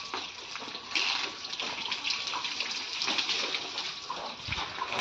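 Water gushing and splashing steadily from a hose or tap while cattle are washed in a cowshed, close and continuous with no talk.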